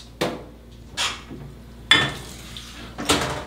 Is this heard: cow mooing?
no